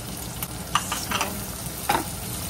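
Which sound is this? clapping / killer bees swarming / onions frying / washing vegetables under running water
onions frying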